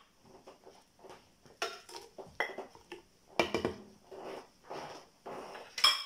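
Meat going into a cooking pot for traditional chercham, a Yennayer dish: close, intermittent clatter and clinks of utensils and metal against the pot, in uneven bursts with no talk.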